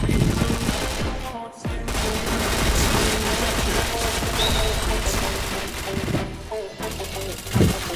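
Continuous rapid gunfire in the shooter game Point Blank, dense overlapping bursts filling nearly the whole stretch with brief gaps, loud and close, with voices talking underneath.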